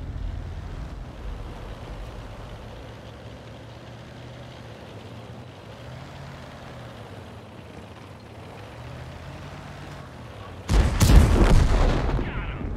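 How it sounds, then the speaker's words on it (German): Artillery fires in a tank battle video game: after a stretch of low engine rumble, a loud sudden boom bursts out near the end and rolls off into a lingering roar. "Und beide Artis haben geschossen."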